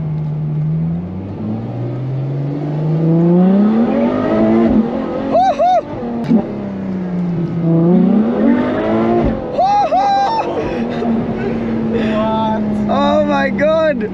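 A Ferrari F12 TDF engine in race mode is heard from inside the car, revving loudly in repeated rising and falling sweeps with sharp pops and crackles at gear changes, while people talk over it.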